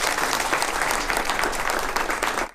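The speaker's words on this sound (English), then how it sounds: "This applause is their paycheck for changing faces and, in the process, changing lives." Crowd applauding a surgical mission team after their work, a dense, steady round of clapping from many hands, close and lively throughout before fading at the end.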